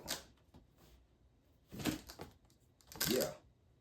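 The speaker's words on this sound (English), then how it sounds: "That box making all types of noise." Air Jordan 3 x Levi's Indigo sneaker cardboard box rattles and scrapes in three separate bursts of handling noise, close up and crisp, with quiet pauses between.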